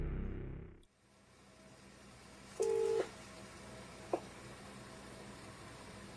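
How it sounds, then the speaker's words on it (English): A phone number is dialed on a telephone: one sustained keypad tone about half a second long, then a brief second beep, both clear over a quiet hiss. "she finds the phone number of Margaret Watts and attempts to ring it"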